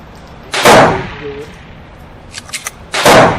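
Two sharp, loud reports from a Walther P22 .22LR handgun firing Mini Mag ammunition at seven yards, spaced about two and a half seconds apart, with faint clicks in between.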